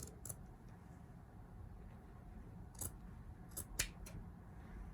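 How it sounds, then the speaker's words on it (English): Scissors snip through an old cotton t-shirt during a DIY tube-top cut, giving a few sparse, crisp clicks and short snips spread across a quiet room with low background hum. "I'm just gonna start cutting from the other side just to make sure everything lines up properly"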